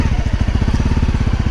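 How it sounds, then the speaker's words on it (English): A Honda CRF250L dirt bike engine braking on a rocky off-road trail, a loud, close, rapid rhythmic engine burble pulsing steadily throughout. "Engine braking is pretty serious on this thing."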